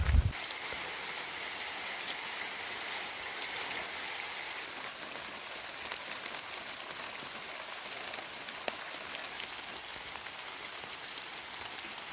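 Steady rain pours down in a mountain setting, a dense continuous patter on surfaces, close and even throughout, with no talking.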